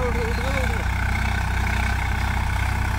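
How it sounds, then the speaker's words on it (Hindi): Swaraj 855 FE 50HP diesel tractor engine running steadily with a computer laser leveler, a continuous low, even rumble with a regular beat, close and loud throughout, with a brief whistling tone early on. "किसान भाइयों आप देख पा रहे हैं 855 ट्रैक्टर है, खुल के चल रहा है।"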